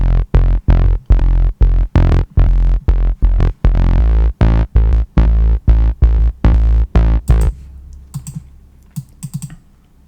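A deep synth bass patch from Omnisphere in the style of electronic music pulses in short, evenly spaced two-note hits for about seven seconds, then cuts to faint scattered sounds.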